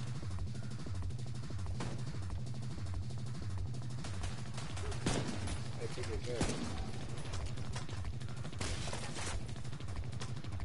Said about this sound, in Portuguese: Tem um cara com tiro incendiário